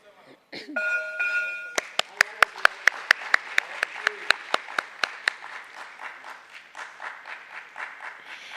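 At a stock exchange listing ceremony on the Bombay Stock Exchange, a bell-like electronic tone sounds briefly, then a run of sharp, evenly spaced claps rings out before fading into lighter, scattered applause.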